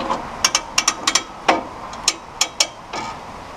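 Sawmill head being cranked down by hand, heard as a dozen sharp, separate metallic clicks and clunks in an irregular rhythm, close and moderately loud.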